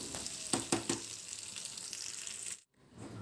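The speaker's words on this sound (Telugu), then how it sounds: "చికెన్ ముక్కలను ఫ్రై చేయడానికి వేరొక కడాయిలో ఆయిల్ తీసుకున్నాను" Chicken pieces deep frying in oil in a kadai make a soft, continuous sizzling hiss with a few sharp pops near the start, cutting out abruptly near the end before a faint hiss returns.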